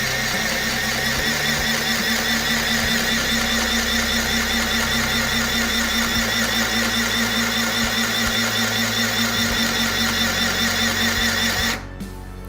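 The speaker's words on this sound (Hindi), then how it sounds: "तो मैं पहले बटन की मदद से चला के देखता हूँ इसको किस तरीके से सिलाई होती है।" A mini portable sewing machine stitches fabric with a steady, continuous mechanical whir at close range, running evenly for most of the stretch before cutting off abruptly near the end.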